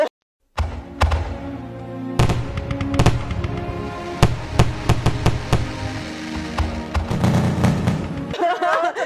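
Fireworks being set off outdoors at a New Year celebration, a dense barrage of loud sharp bangs and cracks in irregular rapid bursts, some overlapping, with crackling between blasts.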